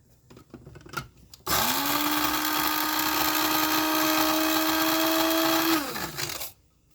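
After a quiet moment with a couple of light knocks, a small blender chopping parsley starts up with a loud, even motor whine, holds for several seconds, then spins down.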